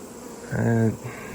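Bees buzzing around a beehive during hive combining, a short close-up drone swelling for about half a second over a soft background hum.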